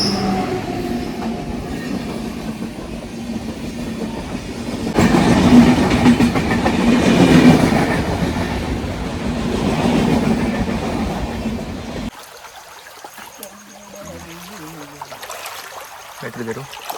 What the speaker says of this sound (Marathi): ट्रेन येता म्हणजे कुठची तरी.